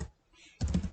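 A computer keyboard clatters in a brief burst of quick, close keystrokes after a short pause, quiet and without talk.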